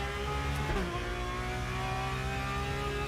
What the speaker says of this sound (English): Man, that car sounds good.